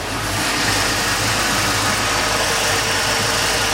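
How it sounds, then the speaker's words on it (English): A 5-liter Mercruiser V8 boat engine in a 2006 Sea Ray 240 Sundeck runs loud and close with a steady throbbing rumble and no talk over it. "There's the 5-liter Mercruiser V8"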